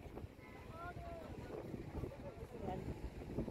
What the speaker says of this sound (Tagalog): Buti na lang malakas ang hangin ngayon